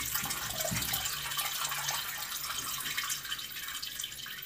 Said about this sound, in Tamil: வடித்ததுக்கப்புறமா உடனே சில்லுன்னு இருக்கிற தண்ணியை உடனே சேர்த்துக்கலாங்க.